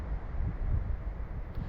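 Wind sweeps across a mountain campsite beside a river near Kebnekaise, Sweden, with steady low rumbling gusts buffeting close to the microphone and no voices.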